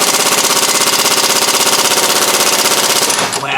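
An impact gun hammers on seized lower ball joints of a 2003 Dodge Ram 4x4, a loud, continuous rapid rattle that runs for about three seconds before cutting off abruptly.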